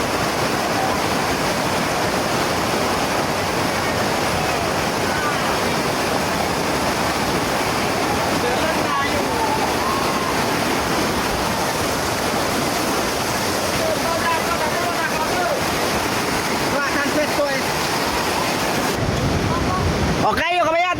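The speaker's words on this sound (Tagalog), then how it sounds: "Kusog ang agos." Strong river floodwater rushes loudly and continuously in low-lying ground at Maasim, a dense roaring wash with wind buffeting the microphone and voices talking faintly underneath.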